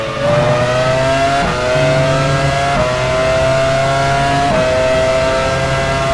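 A race car in F1 Challenge 99-02 at Spa Francorchamps, Belgian GP 2001, screams along at high revs, its engine note rising through several quick upshifts as it heads into the pit lane, loud and steady throughout.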